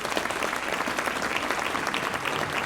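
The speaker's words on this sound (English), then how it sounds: "Please give our presenters another round of applause" Steady, dense applause from a seated audience at a community justice summit, loud and continuous throughout with no talk over it.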